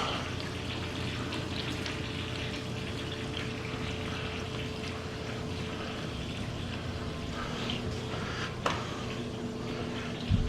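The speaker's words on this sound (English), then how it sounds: "Got a little splash right there." Continuous splashing and pouring of water in a stainless steel screen fountain, a steady close wash with a faint hum beneath and a couple of sharp knocks near the end.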